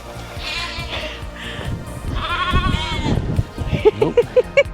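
Sheep bleat several times at close range on a farm campsite near Corfe Castle in Dorset, their wavering calls overlapping, followed by a few quick soft knocks at the end.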